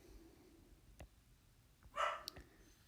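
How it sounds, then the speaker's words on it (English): A dog barks a few times somewhere off in another room, short and fairly faint against a quiet indoor background. "oh, my other dog's barking now"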